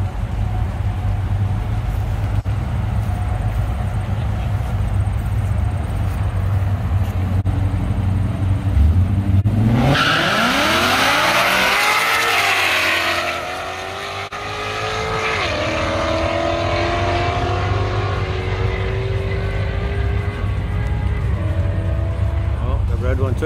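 Two Mustang GT cars race a quarter-mile drag strip, their V8 engines roaring loudly past with a rising, then falling sweep of exhaust and engine noise before fading into distant rumble.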